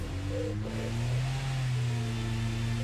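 A survey car's engine from a Nightmare Zone video game, humming steadily at close range with a low, even drone and a slight rise in pitch, no voices over it.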